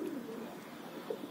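Racing pigeons coo faintly at a pigeon trader's loft in Dhaka, a few soft low throaty calls close together over a quiet background.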